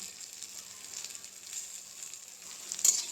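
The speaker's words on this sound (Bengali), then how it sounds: "যতক্ষণ না পেঁয়াজগুলো একটু মজে যাচ্ছে ততক্ষণ এভাবে নাড়াচাড়া করে লাল লাল করে ভাজি করতে হবে।" Onions sizzle gently in a pan with a little salt and turmeric, stirred now and then, a soft steady frying hiss close by with a brief scrape of the spoon near the end.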